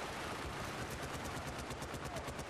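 Rapid automatic gunfire from a Battlefield Bad Company 2 multiplayer match rattles on without a break, loud and dense, filling the whole stretch.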